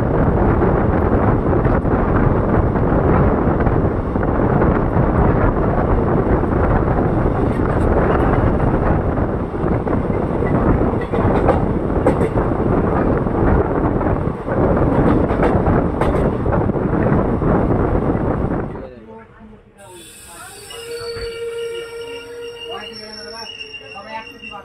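The Howrah–Malda Town Intercity Express pulls away, filling the space with loud, continuous rumble and wind buffeting for about nineteen seconds before it drops to a quieter, thinner ambience.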